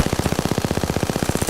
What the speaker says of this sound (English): An SMG from 75 meters